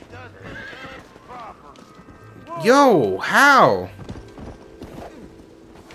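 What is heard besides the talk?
horse neighing and hooves clopping in a video game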